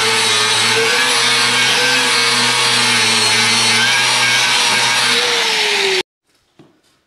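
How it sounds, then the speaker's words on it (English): An angle grinder with a flap disc smooths a weld on a Meyer C8 snow plow moldboard, giving a loud, steady, harsh whine for about six seconds before it cuts off abruptly, followed by a faint clunk. "Now we're gonna grind this off and make it look smooth again."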